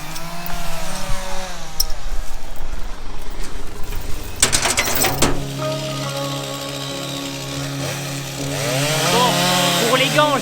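A chainsaw cuts wood on a farm where a tree fell onto a tractor, its engine snarling loudly and steadily up close, with a sharp crackling burst midway and voices talking under the noise.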